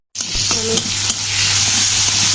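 Cumin and onion hit a hot pan and break into a loud, steady sizzle. A few stirring scrapes and clinks come early, then the frying settles into an even hiss.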